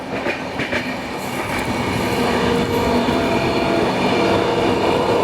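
The Vidarbha Express rolls past the Pune Amravati Express with a loud, steady rumble and rhythmic rail clatter, heard close from on board with no voices.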